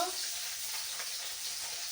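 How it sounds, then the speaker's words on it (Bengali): Fish frying in oil in a home kitchen pan gives a soft, steady sizzle with faint crackles, continuous and close, with nothing else over it. "আমি এই মাছগুলোকে ভেজে নিচ্ছি, ভেজে রেখে দেবো আমি মাছগুলোকে"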